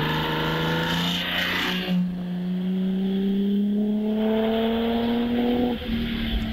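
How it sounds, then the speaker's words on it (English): A vintage light Frazer Nash sports car with a mid-1930s BMW six-cylinder engine pulls away loudly and nearby, its engine note rising steadily as it accelerates hard, with a brief gear change partway through. "Frazer Nash has the BMW six-cylinder engine from the mid-30s."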